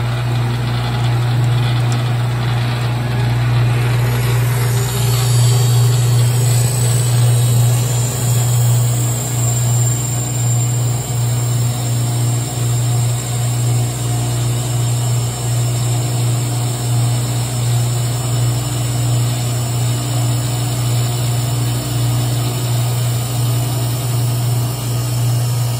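A saw blade sharpening machine side-grinding the teeth of a saw blade runs as a steady droning hum with a strong low tone and a faint high grinding whine, continuous and unchanging throughout.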